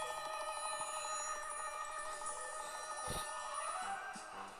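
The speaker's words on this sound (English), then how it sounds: "That's your ringtone" A phone rings with the Mission Impossible theme as its ringtone, a bright, tonal electronic melody playing steadily at moderate volume, with a brief knock partway through.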